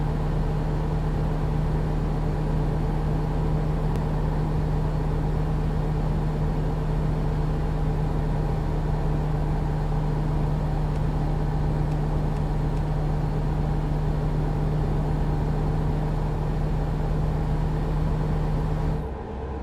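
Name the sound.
loud truck engine driving in the video game American Truck Simulator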